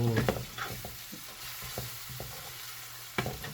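Onion and garlic frying in a pan while a pancit palabok sauce is made, giving a soft, steady sizzle broken by scraping stirs and clinks of the utensil against the pan, close up and with no talk.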